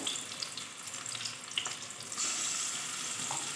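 Cabbage and shrimp pakoras sizzle in hot oil over a medium flame, a steady close hiss that swells louder partway through as more batter pieces go in.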